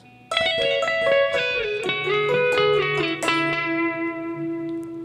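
Clean electric guitar lick, a flowing run of picked and bent notes ending on a held, ringing tone, played solo with a touch of effect.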